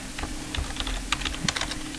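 Quick bursts of keystrokes on a computer keyboard, close and crisp, irregular clicks clustered over a couple of seconds with soft background hum.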